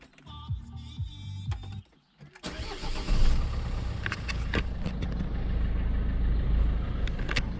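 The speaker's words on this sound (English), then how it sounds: "we start the car" A car with a trailer hooked up for a 7-pin socket test: a few light clicks, then the engine cranks and catches about a third of the way in, settling into a steady, close idle.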